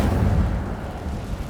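Casting the Incendio fire spell in Hogwarts Legacy sets off a deep, booming burst right at the start, which rolls on and fades into a low rumble.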